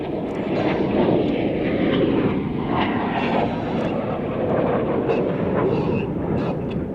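A Red Arrows aerobatic jet at an airshow flies a negative G barrel roll overhead, a loud continuous engine roar that swells and holds steady, heard from the ground at a distance.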